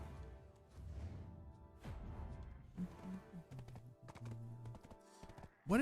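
Hooves of a horse clip-clopping along in an online role-playing game, a steady walking rhythm at moderate level amid other in-game sounds and chimes.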